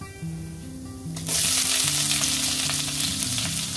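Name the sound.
urad dal frying in pan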